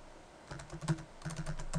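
A short burst of keystrokes on a computer keyboard as a terminal command is entered, several soft close taps in quick succession with brief gaps.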